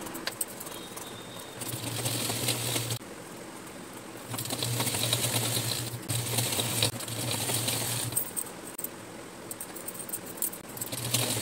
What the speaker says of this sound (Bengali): মার্জিন বরাবর সেলাই করে নিলেই চুড়িদারটা কমপ্লিট হয়ে যাবে।